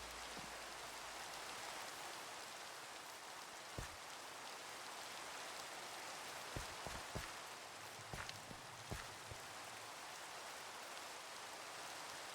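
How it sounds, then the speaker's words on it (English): Steady video game rainfall hisses throughout, with occasional louder drops and taps pattering nearby on a surface. "I know it's raining"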